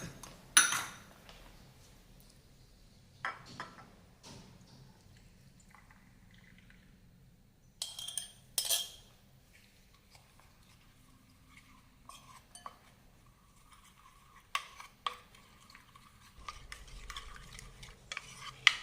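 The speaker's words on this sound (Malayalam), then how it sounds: "ഇനി ഈ കോൺഫ്ലവറും അതുപോലെ കൊക്കോ പൗഡറും കുറച്ച് പാലൊഴിച്ചൊന്ന് കലക്കി വെക്കണം" A spoon stirs cornflour and cocoa powder into a little milk in a cup, giving soft scraping swirls and a few sharp clinks against the rim, quiet and close with pauses between bursts.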